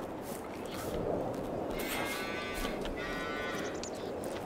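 Cattle mooing in the farming game Farming Simulator 22, out in a field: a drawn-out, fairly faint moo rises in the middle over a soft, steady background hum, with no speech.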